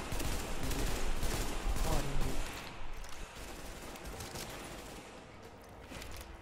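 Rapid bursts of automatic gunfire from The Division, loud and dense at first, then easing into scattered shots farther off, with talking mixed in.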